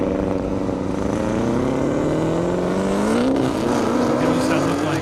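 At an airport drag strip, a race car engine, including a Mercedes-AMG GT S lining up, drones and rises steadily in pitch as it revs. The sound is loud and continuous, with a faint announcer's voice mixed underneath.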